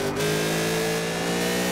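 A McLaren Senna accelerating in Forza Horizon 4, its engine holding a loud, steady rising drone at close range with no pause across the short burst.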